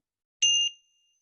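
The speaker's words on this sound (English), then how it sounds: "If you go over 2 minutes, I will ring the gentle bell" A single gentle bell rings once, a bright, clear ding that fades over a moment in an otherwise silent room.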